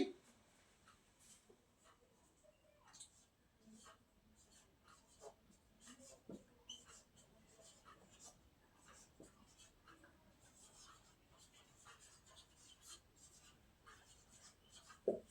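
A pen scratches across paper while English sentences are written out, a faint, close, continuous scribbling with small irregular strokes in a quiet room.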